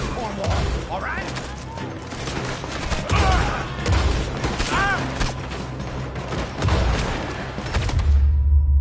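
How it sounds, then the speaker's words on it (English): Gunfire in Red Dead Redemption 2 as outlaws shoot their way out of a robbery: repeated rifle and pistol shots crack in uneven bursts, some close and sharp, some farther off, over a busy game soundscape with voices mixed in. "Looks like we're shooting our way out of here, fellers."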